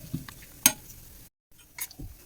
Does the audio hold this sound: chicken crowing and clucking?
no